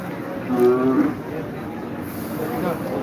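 A single close moo from red Sahiwal or Sindhi cattle rings out early at a winter cattle market in Taherpur, Rajshahi, then fades into murmuring crowd noise and background voices.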